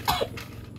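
A person with a cough lasting months during a medical check-up, giving one close, sharp cough with a brief second burst, then quiet room tone.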